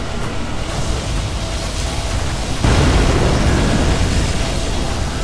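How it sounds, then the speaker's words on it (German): A missile detonates into flames in the C&C Zero Hour strategy video game. A sudden loud blast midway opens into a sustained roaring, crackling burn that carries to the end. "Und das explodiert natürlich dann auch wieder in Flammen."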